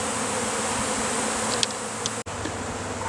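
A swarm of honeybees that has left a hive box fills the air with a dense, steady buzzing hum, close and continuous, with an occasional louder bee passing near.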